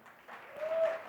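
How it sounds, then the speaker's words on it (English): Audience applause honoring a mother and son duo, brief and fairly soft, swelling slightly in the second half of a short burst. "round of applause to both of you"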